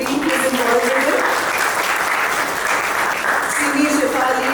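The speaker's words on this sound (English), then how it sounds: "So a big round of applause to everybody who's involved with it." A big round of applause sweeps a literary festival audience in Hyderabad, loud and continuous throughout, with a voice talking over it briefly at the start and again at the end.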